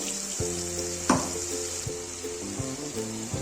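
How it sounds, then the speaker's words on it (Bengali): Sizzling soybean and potato curry in a pan as water goes in, a brief sharp hiss burst standing out over steady frying, with tonal clinks and knocks of a utensil throughout. "অল্প পরিমাণে জল দেব।"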